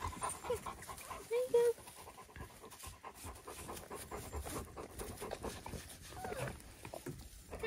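Four-week-old Great Pyrenees puppies pant rapidly up close, with a couple of short, high whimpers early on, while someone speaks briefly to them over the panting.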